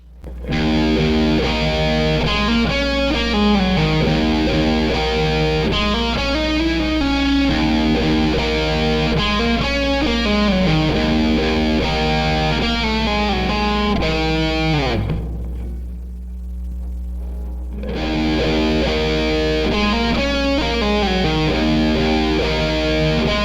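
Electric guitar played through an Orange Dark Terror tube amp with heavy distortion, loud and sustained chugging riffs and chords with a brief drop in the middle before the riffing resumes at full volume.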